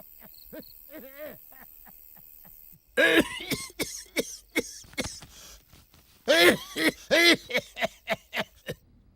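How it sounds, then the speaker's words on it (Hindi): A comedic coughing fit from an elderly character in a Hindi comedy film: wheezy hacking bursts at first, then two loud clusters of rapid, harsh coughs in quick succession, close and dry, with no talk over them. "अरे मेरे बस में नहीं है ये खांसी।"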